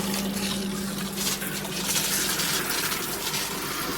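Water sprays steadily from a SparkPod 10-mode high-pressure shower head, a constant close hiss and gush with a faint hum beneath it.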